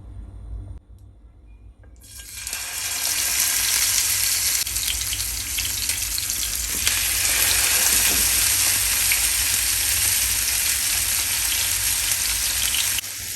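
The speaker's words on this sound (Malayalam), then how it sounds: "നമുക്ക് മീൻ ഇട്ട് നമുക്ക് വറുത്തെടുക്കാം. ചെറിയ തീയിൽ വേണം നമ്മൾ അത് വറുത്തെടുക്കാൻ വേണ്ടി." Masala-coated fish frying in hot oil in a pan over low heat, a steady dense sizzle that swells in after a quiet start and holds loud and continuous to the end, with no voices.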